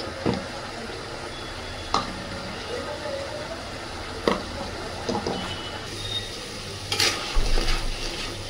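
Chicken pieces coated in a ground spice paste being stirred in a pan, with scraping strokes at irregular intervals over a low, steady frying hiss.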